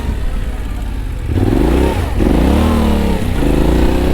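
Yamaha Tenere 700 motorcycle engine pulling hard while ridden on road and off-road trails, a loud, close, continuous drone that rises and swells in pitch with repeated throttle surges.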